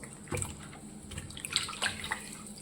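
Raw plantain is washed in water, with irregular splashes, drips and sloshing of water in a container, moderately close and without speech.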